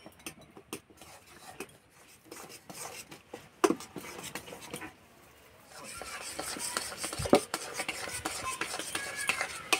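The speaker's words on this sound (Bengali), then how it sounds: "এইভাবে অল্প অল্প দিতে হবে, নাড়তে হবে, নাহলে দলা বেঁধে যাবে।" Spoon scraping and stirring semolina into hot sugar syrup in a pan over low heat, a steady run of soft scrapes and clinks that grows busier and denser in the second half.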